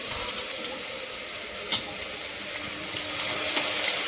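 Mustard seeds and asafoetida crackle and sizzle in hot oil in a pan for a Gujarati chili sambharo, a steady close hiss with a few sharp pops and no voices.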